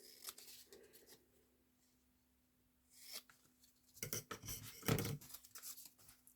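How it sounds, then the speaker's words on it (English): Scissors snip through a contrasting Gelli-printed paper belly band for a tag, giving a few short, close rustling cuts and paper handling after a quiet stretch, with no talking. "Just snip it using scissors."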